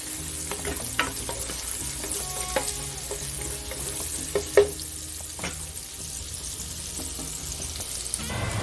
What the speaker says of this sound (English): I put one head of garlic going down. Cook until they yellow and smell good.